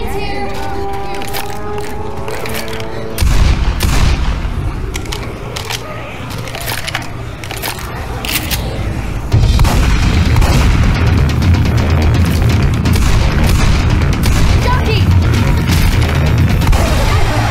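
Grenade explosions in Left 4 Dead 2: sudden heavy blasts that jump the level, followed by a loud, sustained crashing roar of debris and chaos, with sharp impact cracks scattered throughout.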